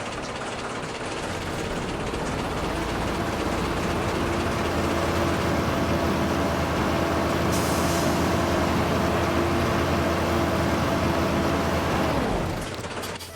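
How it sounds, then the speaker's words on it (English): A truck engine in the video game Farming Simulator 22 idles at a steady, loud drone with a constant low hum, running alone for about twelve seconds before cutting off sharply near the end. "Wow, I actually like that engine sound."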